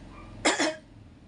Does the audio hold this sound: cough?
yes